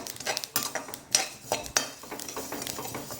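Ingredients such as ajwain, fennel and sesame dry-roasting in a pan over low gas, heard as repeated close metallic scrapes and clinks of a spoon against the pan with a faint sizzle underneath.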